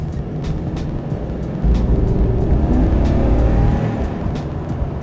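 4WD explorer van with a 6.6 liter V8 accelerating, a loud, dense engine roar with road rumble that swells partway through and holds steady.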